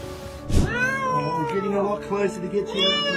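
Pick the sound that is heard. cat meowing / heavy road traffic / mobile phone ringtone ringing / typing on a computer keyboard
cat meowing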